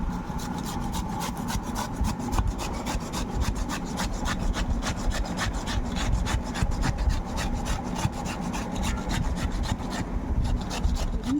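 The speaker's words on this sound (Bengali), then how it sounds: "এইভাবে কিন্তু একদম গ্রেটার দিয়ে মিহি করে ঘষে নেবেন পুরোটা" Bottle gourd is grated finely on a hand grater: rapid, even rasping strokes repeat steadily and close up for about eleven seconds, with no voices.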